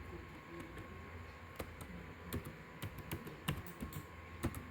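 Typing on a computer keyboard while filling in an online form: quiet, irregular key clicks close by, with occasional louder taps standing out over a faint room hum.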